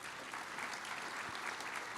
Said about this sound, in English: let's give Chief Ronnie Chickite a round of applause